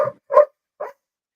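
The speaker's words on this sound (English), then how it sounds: "you can hear that dog in the background." A dog barks in the background, three short sharp yaps spaced apart with silence between them, fairly close and clear.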